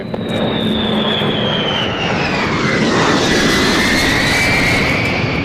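Loud, steady jet roar of a B-52 bomber passing at an air display, with a pitch sweep as it goes by, continuous throughout.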